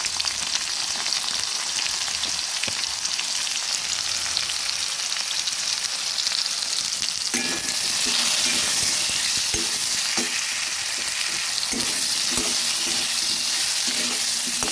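Banana flower seasoned with salt and turmeric frying in a pan, with a constant close sizzle. Stirring joins in about halfway, adding brighter bursts and soft scrapes with no voices.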